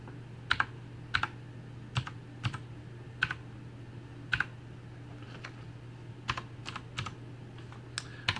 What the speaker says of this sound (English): Well, the keyboard works.